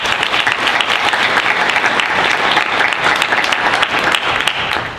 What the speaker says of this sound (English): So let's give a round of applause to them.